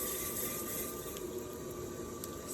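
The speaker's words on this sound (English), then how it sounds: "If it's hot or sticky, we're going to add some water." Water poured onto clay on a spinning pottery wheel gives a steady, faint rushing and hissing wash that continues without a break and with no voices.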